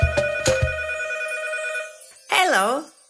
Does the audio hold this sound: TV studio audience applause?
no